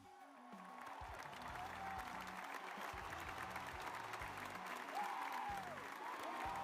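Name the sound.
round of applause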